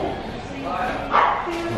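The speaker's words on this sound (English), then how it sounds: "Someone just got savaged by a dog." A dog barks and yips out in public near a supermarket car park, a brief sharp burst rising over ongoing street noise and nearby chatter.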